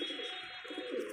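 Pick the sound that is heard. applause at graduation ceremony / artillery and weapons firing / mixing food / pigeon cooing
pigeon cooing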